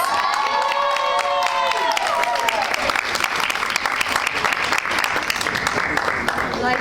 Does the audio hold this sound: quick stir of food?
no